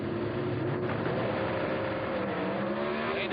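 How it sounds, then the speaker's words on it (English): Drag racing cars, a C altered and a turbocharged AA altered, idle and rumble at the start line of an NHRA Competition Eliminator round, a steady, moderately distant engine drone with a faint harmonic hum. "Cooking the C altered, Hurley Blakeney in the AA altered turbocharged"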